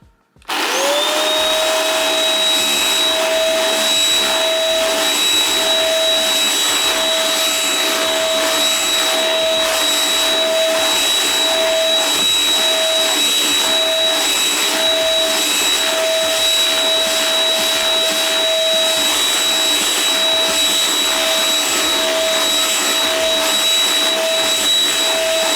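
A CLEANmaxx dust-mite hand-held vacuum cleaner with UV light switches on and runs on a chair's upholstery, a loud steady motor whine with a high tone that persists throughout as it passes over the fabric.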